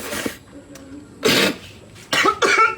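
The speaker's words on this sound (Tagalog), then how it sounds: "Meron isang particular ubo na 100 milyon ang nakakita." Several harsh coughs from one person, a burst at the start, another after a pause, then two quick coughs close together at the end, near and fairly loud.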